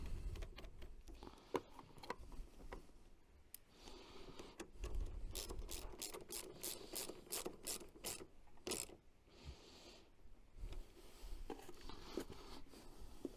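A ratchet spins a nut down onto a washer while fitting an Anderson caravan socket to a Ford Ranger, giving bursts of quick, close clicking with scraping and handling noises in between.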